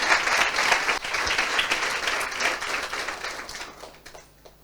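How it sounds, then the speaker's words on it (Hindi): A church congregation claps together in a burst of applause, dense and lively at first, then thinning out and fading to near quiet at the end. "आइए खुद के लिए ताली बजाइए।"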